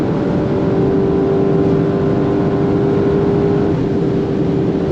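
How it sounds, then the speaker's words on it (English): A Lamborghini Urus V8 engine roars loud and steady at high revs, a constant close drone with a sustained tone and no break in its blast. "it just keeps on blasting that crazy V8 sound"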